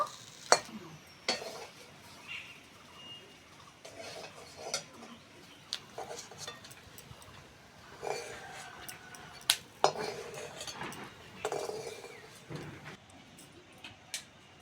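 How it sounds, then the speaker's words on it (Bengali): Fried pointed gourd is lifted out of a frying pan, quiet sizzling with scattered utensil clicks and taps against the pan, close and soft. "পটল ভাজা হয়ে গেছে, তুলে নেব।"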